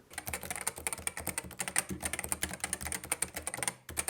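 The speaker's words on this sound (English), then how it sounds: "The TOPRE switches have very unique sound signature." Rapid, steady typing on a keyboard with Topre switches, a dense run of soft, muted keystrokes heard close with no speech, pausing briefly near the end.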